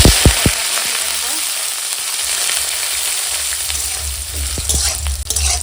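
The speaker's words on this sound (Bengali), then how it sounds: "এখন এই তেলের মধ্যে এখন দিয়ে দিচ্ছি শুকনো লঙ্কা তেজপাতা আর পাঁচফোড়ন" Dry chillies, bay leaf and panch phoron crackle and sizzle in hot oil in a pan, a loud continuous close-up frying hiss with a few sharp pops and the scrape of stirring.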